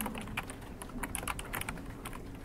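Fingers tap quickly on a computer keyboard while entering HTML table code, a quiet, close run of irregular key clicks with no speech.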